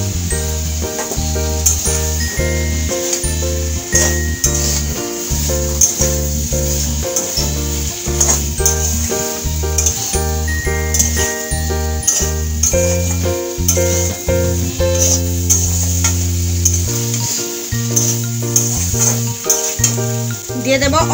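Pre-fried potato, green banana and soya chunks sizzle in a pan with occasional stirring, a continuous hiss and crackle under background music.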